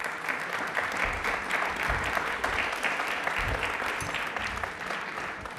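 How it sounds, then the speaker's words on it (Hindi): A television studio audience on a Rajasthani quiz show claps in a steady, dense burst lasting several seconds, fairly close and even in loudness, with faint low thumps beneath. "लेकिन इनके लिए ताली एक बार जोरदार हो जाएं।"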